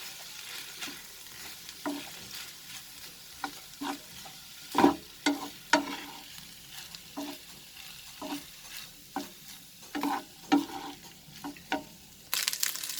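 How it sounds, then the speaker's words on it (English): Vegetable fried rice with light soya sauce is sauteed over a high flame, with steady sizzling and a run of sharp, irregular spatula scrapes and stirring knocks close by, and no talking. "And now I will saute it for another 30 seconds."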